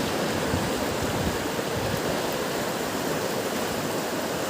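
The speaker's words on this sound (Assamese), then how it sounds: "এয়াই নদী" The Karbi Langpi river flows past in the forest with a constant, full rushing wash of water, loud and unbroken throughout, with no voices.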